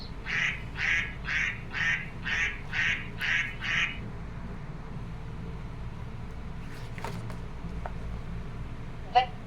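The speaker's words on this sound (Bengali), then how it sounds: "পাতিহাঁস" A duck quacks eight times in a quick, even series, fairly close and clear, then stops; a low background hum and a few faint clicks and creaks follow.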